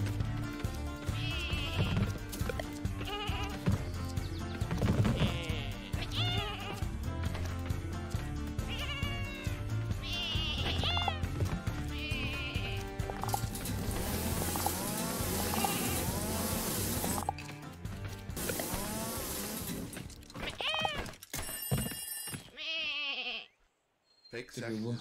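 Sheep bleating in the co-op lumberjack video game Lumberhill, short cries surfacing over busy game music and sound effects while players talk throughout.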